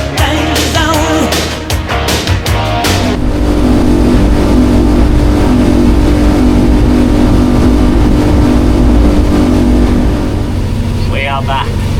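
A caraboat motorboat engine at full throttle in the remote Kimberley drones loud and steady up close for a long stretch, with gusty bursts at the start.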